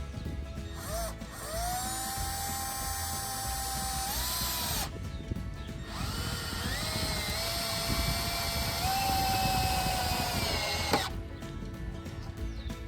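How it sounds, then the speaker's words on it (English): Power drill driving screws into a wooden poultry cone stand, two long whirring runs with rising pitch as each screw seats, a short pause between them, loud and close. "tighten down all the other screws, put an additional screw in each one just to firm everything up a bit"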